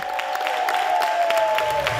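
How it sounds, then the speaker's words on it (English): Applause from a theater audience, a dense, even burst of clapping that fills the short moment, with a steady tone sliding slightly under it. "And thunderous applause."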